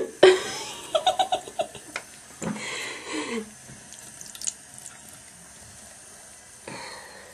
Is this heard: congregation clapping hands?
no